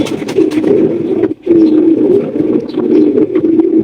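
Pigeons, including German silk pigeons, coo in a steady, loud, close chorus of low rolling calls, with one brief gap partway through.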